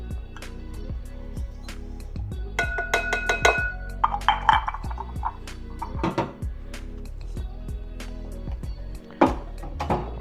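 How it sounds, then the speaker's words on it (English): Dry spice ingredients for homemade pastrami, including onion, garlic, smoked paprika and coriander, are stirred in a bowl, giving a string of close clinks, taps and scrapes of utensil against bowl in an irregular rhythm. "I'm going to place it into a bowl because I'm going to mix all of the dry ingredients together"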